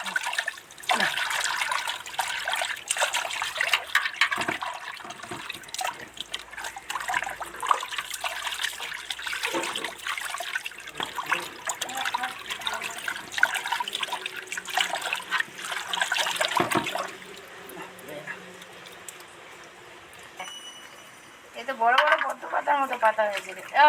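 Water runs and splashes as large ivy gourd leaves are rinsed one by one under a tap, a steady trickling wash with intermittent splashes, fading near the end as a voice talks over it.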